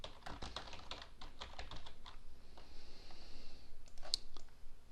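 Fingers type on a computer keyboard in a steady burst of close, quiet clicks, then pause briefly before a few final taps.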